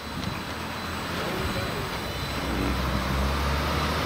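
A Blade Nano QX micro quadcopter lifts off and hovers outdoors in a crosswind. Its steady, airy buzz swells slightly louder partway through over constant wind-like noise.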